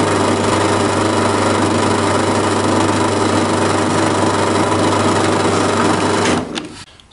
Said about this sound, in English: So we'll just drill that hole through.